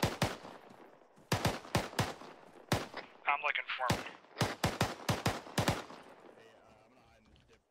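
Loud bursts of gunfire crack in rapid, uneven volleys nearby, with someone speaking briefly between shots.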